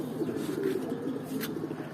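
Soft pigeon cooing in a low murmur at a pigeon racing club tournament in Bikrampur, steady and close, with faint background noise and no talking.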